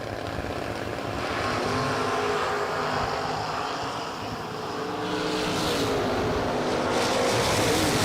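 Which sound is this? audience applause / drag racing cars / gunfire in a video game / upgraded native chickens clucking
drag racing cars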